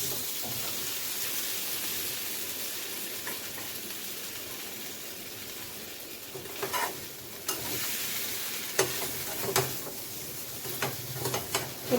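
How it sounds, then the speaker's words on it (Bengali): Raw jackfruit and small prawns sauté in a hot pan with a continuous sizzle, and partway through, scraping stirs of a spatula start up at an uneven rhythm and become more frequent toward the end. "এটা একটু কষিয়ে নিই, তারপরে দেবো, নাহলে জল বেরিয়ে যাবে"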